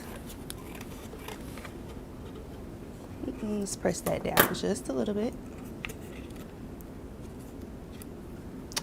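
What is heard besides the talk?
cutting paper with scissors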